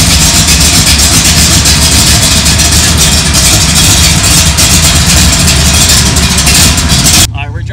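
An AC Shelby Cobra Super Snake with a Godzilla V8 idles loudly and steadily close by, its deep, even rumble holding for several seconds before cutting off abruptly near the end.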